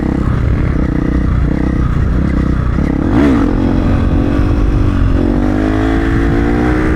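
A supermoto motorcycle engine roars loudly and continuously during a sit-down wheelie stunt, revving up with a rising pitch midway as the rider accelerates, with some rattling and road noise and no talking.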